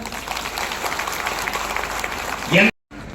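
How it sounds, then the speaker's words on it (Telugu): Student audience at an engineering college orientation programme breaking into dense, close applause that runs steadily for a few seconds, then cuts out abruptly. "ఇప్పుడు ఒకసారి చప్పట్లు కొట్టండి అందరూ"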